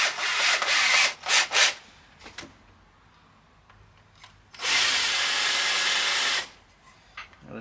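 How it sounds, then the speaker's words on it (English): A small countersink bit drills into a wooden cane, with short whirring bursts followed by one longer steady grind, loud and close, alternating with quiet pauses. "I'm going to use this little tiny wee countersink."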